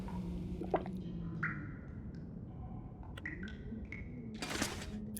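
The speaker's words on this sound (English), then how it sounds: "Let's have some water." Quiet, close drinking sounds in The Long Dark, with a few small liquid drips and squishes followed by a soft gulping swallow near the end, set against a low ambient hum.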